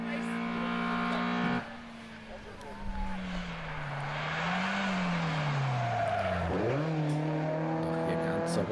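Rally cars race through a circuit section of the Wechselland Rally 2015, with one engine's drone rising and falling as it passes and a brief tyre-scuffing burst. A commentator talks over the engine noise.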